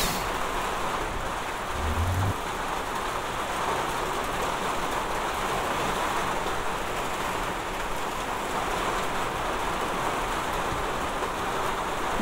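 Heavy rain falls without pause, a broad constant wash of drops close by, with a short low thump early on and no talking.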